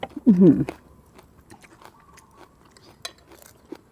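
Crisp bites and crunchy chewing of raw long beans dipped in Thai shrimp paste, a loud close burst of crunching near the start, then quieter mouth sounds and faint background noise.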